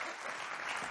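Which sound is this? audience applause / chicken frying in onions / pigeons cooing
audience applause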